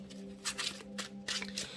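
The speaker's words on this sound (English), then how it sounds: "Let's get one more shuffle from this deck" A deck of tarot cards being shuffled up close, a few quick papery riffles and rustling slides in short bursts, with no one speaking.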